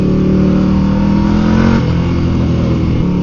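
A motorcycle engine drones steadily while riding in fine weather, rising in pitch as it accelerates and then dropping briefly with a gear shift before climbing again. It is loud and close, with wind noise behind it.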